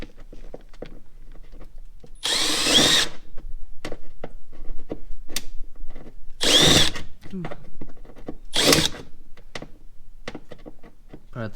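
Power drill in hammer mode boring out a stuck part on an LS3-swapped Subaru BRZ, three loud rattling bursts of a couple of seconds each, separated by clanks and tool handling noises.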